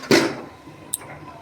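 A lid set down over a pot of mango chutney made with a kilo of mango and half a kilo of jaggery, one close clattering knock followed by a faint second tap, with no talk.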